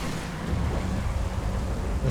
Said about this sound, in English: The thunder weather is gonna cause issues.